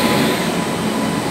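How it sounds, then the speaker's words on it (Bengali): A train rolls into a station at night, a loud, steady rumble of wheels close by, with no pauses and no voices. "এখন 11:05 ট্রেন ঢুকে যাচ্ছে"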